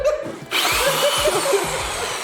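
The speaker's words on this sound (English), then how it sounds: "He drilled through the table." A power drill whines at high speed as it bores through a table, close and loud, with a low stuttering grind beneath the steady motor tone.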